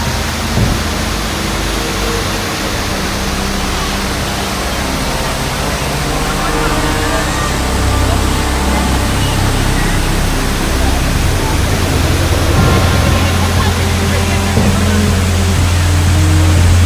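A constant, loud roar of rushing water from nearby Pampanal Waterfall in Idukki, Kerala, broad and unbroken for the whole stretch.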